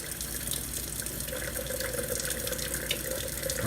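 Tap water runs steadily in a kitchen sink as broccoli sprouts are slowly rinsed, making a continuous close-up splashing hiss with no talk.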